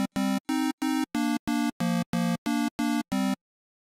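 An Access Virus TI synthesizer plays its first oscillator alone on a pulse waveform, sounding eleven evenly spaced buzzy, bright notes in a steady staccato rhythm, close and clear, then falling silent.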